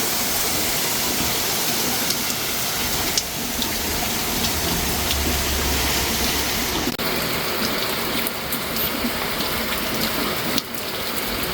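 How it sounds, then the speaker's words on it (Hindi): Heavy monsoon rain pours down in Dehradun, a dense, steady roar of downpour that stays loud and unbroken throughout, with no voices. "जिस हिसाब से अंधेरा है कि ये पूरा दिन पड़ेगी, बहुत लंबी चलने वाली है ये वाली बारिश"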